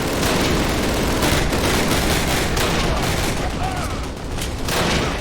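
Gunfire in the Call of Duty video game: dense, continuous bursts of rapid automatic shots and cracks fill the mix loudly, with a brief lull near the end.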